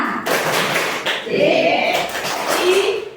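A group of people doing a rhythmic clap chant in a school workshop session, short clapping bursts mixed with voices chanting along, loud and close.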